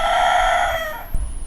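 A rooster's crow trails off as chickens cluck in a morning garden, close and fairly loud, followed by a soft thump.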